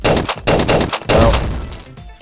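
Gunfire in a zombie video game comes in rapid close bursts, several loud shots in quick clusters followed by a longer decaying volley, with no talking over it.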